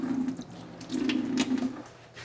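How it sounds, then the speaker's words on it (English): Hands rinsed under a running kitchen tap, water splashing and dribbling in two bursts with a brief lull between them, close and moderately loud with no talking. "I need to rinse my hands here."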